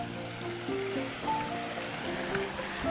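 Water flows across a walking path outdoors on an autumn afternoon, giving a steady rushing wash close by. Faint tonal sounds drift over it.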